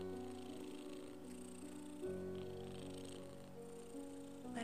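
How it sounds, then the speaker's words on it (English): A cat purrs softly and steadily throughout, a low continuous rumble blended with gentle soft music in a quiet ASMR setting. "Listen to Cleo purring."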